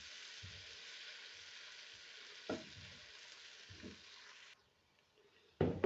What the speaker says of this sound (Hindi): अदरक और लहसुन का पेस्ट जो है वो 2 मिनट के लिए हमने फ्राई कर लिया।